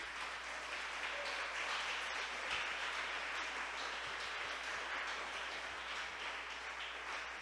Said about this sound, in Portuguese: Aplaude a Jesus por isso.